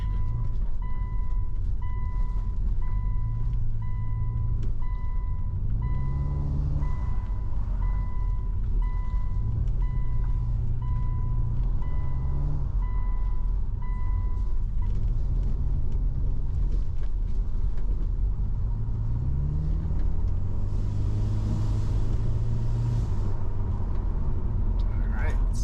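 A car with a rebuilt Subaru EJ25 engine pulls hard in sport mode, revving up and shifting repeatedly in a rising and falling pattern, with a steady cabin drone and people talking over it.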